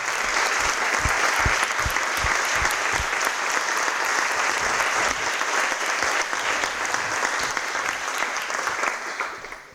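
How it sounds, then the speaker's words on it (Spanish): An audience applauds graduates of a diploma course on gender, work and trade unionism, a full dense ovation lasting nearly ten seconds, with a few low thumps early on and slowly fading at the end. "les vamos a dar un aplauso por haber culminado"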